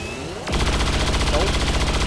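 A rifle shot in the XCOM 2 video game starts abruptly after a quiet moment, followed by a rapid, loud, rhythmic burst of game gunfire.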